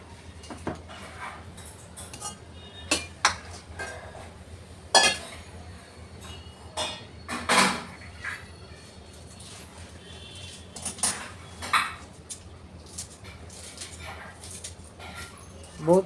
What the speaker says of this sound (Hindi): अब इसमें पालक को चॉप कर देंगे।